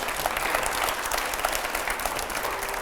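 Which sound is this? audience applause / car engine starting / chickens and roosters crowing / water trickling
audience applause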